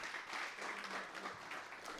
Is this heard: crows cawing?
no